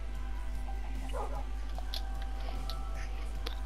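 A dog barks in a video game, short yips rising now and then over a steady game hum and background music, fairly faint and with no one talking.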